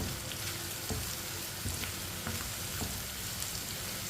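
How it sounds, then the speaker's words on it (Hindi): Chopped ridge gourd sizzles steadily in a hot pan for an Indian turai sabzi, a dense crackling hiss broken by occasional soft scrapes and knocks as the pieces are stirred and mixed. "कटी हुई तोरी डाल लेंगे। अच्छी तरह मिक्स कर लेंगे।"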